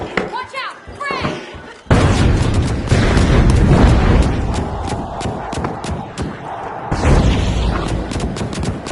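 A frag grenade explodes in the video game The Finals with a loud, close boom that gives way to a sustained rumbling blast and debris, followed by another heavy impact; voices shout over the action.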